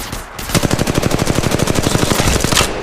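Rapid automatic gunfire from a firefight in the mobile battle royale game Apex Legends Mobile, a steady close burst of evenly spaced shots lasting nearly three seconds with no talk over it.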